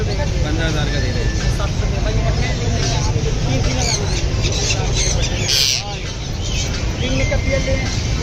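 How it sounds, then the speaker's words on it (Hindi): Alexandrine parrots squawk amid the crowded Sunday bird market in Karachi, their harsh repeated calls rising over a dense hubbub of people talking and traffic noise. "यहाँ पे पहाड़ी तोते बेचे जा रहे हैं"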